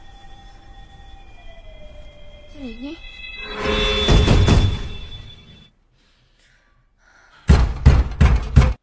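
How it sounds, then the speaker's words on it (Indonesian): Loud, rapid banging on a door in a quick burst of several heavy knocks, coming after a rising rumble and a moment of near silence. "ternyata hanya mimpi, dan untungnya Hejin terbangunkan oleh suara gedoran pintu yang dilakukan oleh detektif Hwan."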